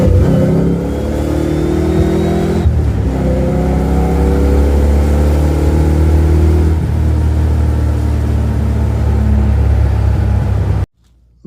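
A car drives along with a steady low hum and drone from the rear end, engine note shifting gradually in loud, close, continuous road noise before cutting off abruptly near the end.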